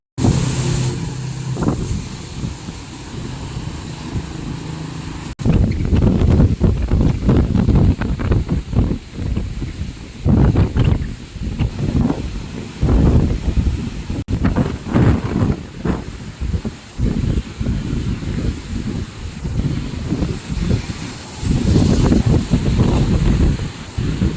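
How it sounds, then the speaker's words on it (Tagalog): Strong gusty wind in heavy rain roars and buffets the microphone in loud, uneven bursts, rising sharply after a quieter start. "Ang lakas ng hangin."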